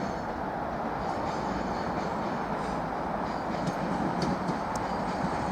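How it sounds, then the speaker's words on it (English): Class 745 Flirt electric multiple unit from London Liverpool Street arriving at platform 2 of Norwich station, a loud, steady rumble and roar of the train rolling in close by, with faint high squeals and clatters over it. "here comes the Class 745 Flirt unit, arriving into platform 2 from London Liverpool Street."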